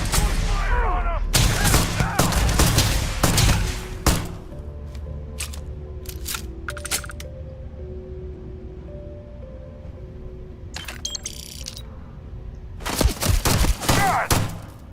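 Bursts of gunfire in the Starfield video game, loud and rapid at the start and again near the end, separated by quieter stretches with scattered single shots and game sounds.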